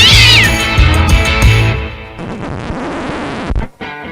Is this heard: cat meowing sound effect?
yes